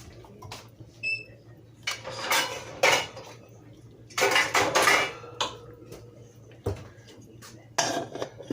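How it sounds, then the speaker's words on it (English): Metal cookware clatters in a kitchen as a lid is set onto a cooking pot, with several bursts of clanking and scraping spaced across the clip and quiet pauses between. "Put a lid on."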